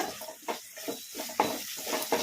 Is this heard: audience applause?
no